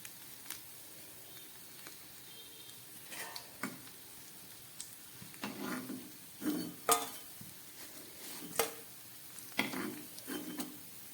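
Fish pieces frying in oil in a pan, a quiet bubbling sizzle under scattered utensil taps and stirring scrapes that come in irregular bursts, no voices.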